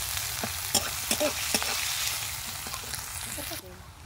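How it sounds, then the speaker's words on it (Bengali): Bean seeds frying in hot oil for a crispy Bengali bean chop, a steady close sizzle with occasional stirring clicks and scrapes that cuts off near the end. "সিমের যে বীজগুলো তেলের মধ্যে দিলে খুব সুন্দরভাবে সেদ্ধ হয়ে যাবে"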